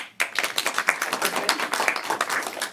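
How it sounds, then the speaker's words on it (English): Audience at a family-friendly comedy show claps together in a dense, steady burst of many hands that starts abruptly and holds evenly throughout, fairly close and with no talking over it. "clap for a clean show"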